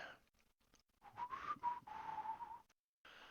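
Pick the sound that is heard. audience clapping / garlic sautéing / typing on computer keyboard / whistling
whistling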